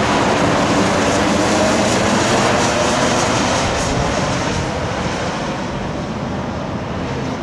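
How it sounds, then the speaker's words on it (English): A fixed-wing airliner accelerates on its takeoff run at Boston, a loud, steady broadband jet engine roar close by that fills the whole clip and eases only slightly toward the end. "All right, leaving 900 feet, heading to 290, and the takeoff goes"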